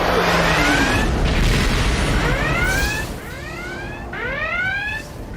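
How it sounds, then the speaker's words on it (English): Loud, continuous booming explosions and rumbling, with rising whooshing tones sweeping through the din. "I hear a lot of explosions down there."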